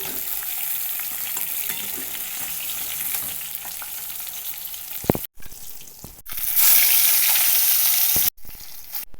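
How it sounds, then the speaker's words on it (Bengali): Pieces of pangas fish turned over and fried in hot oil, giving a continuous sizzle with a few scraping turns, two short gaps and a louder surge of spitting oil partway through. "মাছগুলো উল্টে পাল্টে ভাজিয়ে নিচ্ছি আর তুলে নেব"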